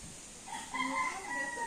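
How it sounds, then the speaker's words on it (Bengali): Village chickens, a short crow-like call and clucking rising over soft outdoor background noise, moderately distant. "মা আর মুরগি, নতুন মুরগি গুলো একটু দেখি না।"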